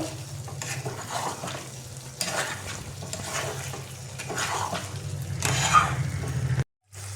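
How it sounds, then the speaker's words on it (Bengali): Chopped spring onion, garlic greens and coriander leaves stirred into a pan of chicken stomach chachari, a soft moist sizzle with rhythmic spatula scrapes, close and moderate, ending abruptly in a brief silence. "দেবো এখানে পেঁয়াজ পাতা কুচিটা, রসুন পাতা কুচি আর দেবো ধনে পাতা কুচি। এটা আমি ভালো করে মিশিয়ে নেব।"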